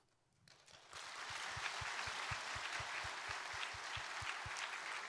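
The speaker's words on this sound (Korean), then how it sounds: "계속해서 큰 박수로 축복해 주시기 바랍니다" A church congregation applauding steadily during a Sunday worship service, dense sustained clapping that swells in after a quiet start and holds at an even level, with a regular low thumping pulse underneath.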